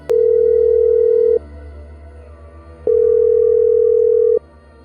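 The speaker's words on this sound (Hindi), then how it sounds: "उसने 100 पर पुलिस को फ़ोन लगाया।" Two long, steady telephone ringback tones, each lasting over a second, separated by a quiet pause as a call is placed to the police emergency number.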